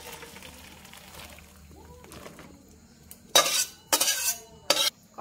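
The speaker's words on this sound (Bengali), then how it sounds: "জল থেকে ছেঁকে নিতে হবে।" Boiled taro stolons are drained from their water in a kitchen. After a quiet stretch of faint stirring, three short, loud bursts of splashing, pouring water follow close by.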